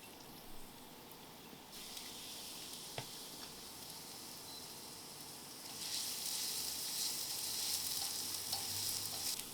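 Chopped onion dropped into hot oil in a pan, a soft steady hiss that swells into a louder, brighter sizzle partway through, with a few faint clicks, no talking.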